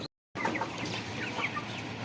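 A domestic chicken clucks in a few short, soft calls close by after a brief silent gap, with no talking.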